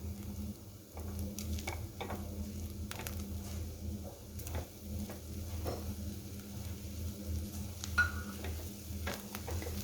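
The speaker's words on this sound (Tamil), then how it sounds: "இதை போட்டு நல்லா நம்ம கலந்து விடலாம்" Grated coconut and country sugar stirred together in a pan for coconut laddu, a steady soft sizzle under scattered scraping and ticking strokes of the spoon, close and continuous with no talk.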